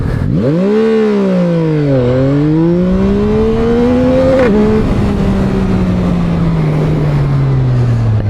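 A 2024 Yamaha MT-09SP motorcycle revs hard through several gear pulls, its loud engine note climbing, dropping at each shift, then climbing again before fading into a long steady tone.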